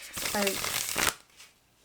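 A deck of tarot cards is shuffled up close in a quick burst of riffling and sliding, and a brief voice sounds partway through before the shuffling stops and a last small tap follows.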